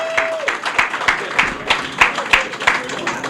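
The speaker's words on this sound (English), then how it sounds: "Give him another round of applause." A crowd at a Greek restaurant's 30-year anniversary applauds its owner, steady rhythmic clapping with sharp individual claps, fairly loud and close, with a brief faint tone at the start.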